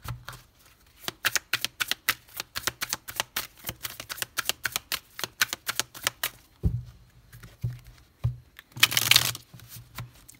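A deck of tarot cards being cut and shuffled: rapid crisp riffling flicks in a steady rhythm, then a few separate taps and a longer burst of riffle near the end, close and alone with no talk.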